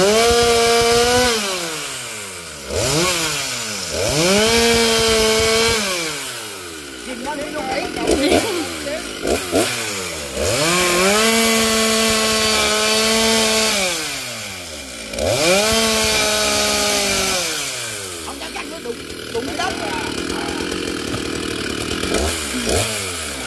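A chainsaw cutting a large breadfruit tree, revving up and down repeatedly, engine pitch climbing and falling as it bites through wood, loud and close.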